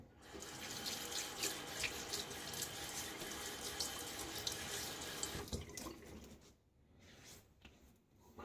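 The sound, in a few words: tap water wetting face while shaving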